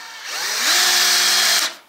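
A Makita CXT FD06Z cordless drill driver in low range and drilling mode spins up, holding a steady whine with a rising tonal hum for under two seconds before winding down, with no talking.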